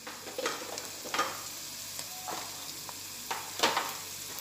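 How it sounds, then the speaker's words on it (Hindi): Red chili powder and salt roasting in a pan over a low flame, a soft sizzle under repeated scraping strokes of a spoon, several louder stirs spread across the stretch, no talking. "लाइट चूल्हे पर मैं इसको भून रही हूँ"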